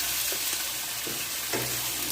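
Masala-coated meat is stirred into frying onions in a home kitchen pot, giving a steady close sizzle with a few soft spoon scrapes and thumps cutting through.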